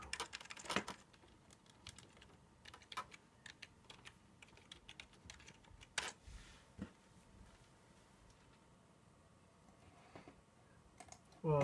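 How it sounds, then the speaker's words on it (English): A password being typed on a computer keyboard: scattered, irregular key clicks in short bursts over a quiet room hum, close and fairly soft, with no talk. "Type in my password."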